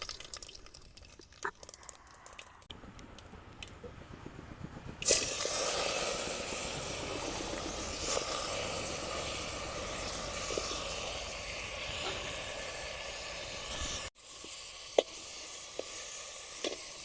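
Mustard seeds drop into hot oil and break into a sudden loud sizzle that holds steady and hissing for several seconds, after a few quiet kitchen clatters, then cuts out abruptly.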